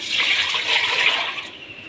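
Tap water runs steadily into a cooking pot in a home kitchen, a bright continuous splashing hiss that fades slightly at the end, with no voices.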